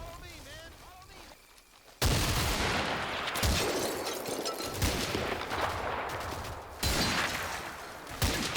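Mortar fire aimed at a machine gun position in the WWII video game Combat Mission: Fortress Italy, with heavy booming impacts and dense, continuous gunfire that opens abruptly after a quiet start with voices, plus several loud blasts.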